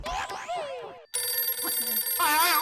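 A phone ringtone plays, warbling electronic tones starting abruptly after a brief burst of sound, continuing fairly loud to the end.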